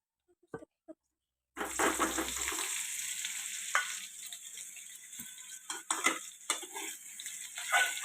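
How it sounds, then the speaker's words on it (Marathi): Stuffed bitter gourd (karela) dropped into hot oil with cumin seeds, bursting into a loud, steady sizzle after a short quiet start, with scattered stirring clinks and scrapes through the frying. "आपल्याला या तेलात परतून घ्यायचं"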